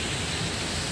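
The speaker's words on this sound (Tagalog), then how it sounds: "Binagsakan na tayo ng ulan." Rain falls in a steady, even hiss throughout, with no other sounds.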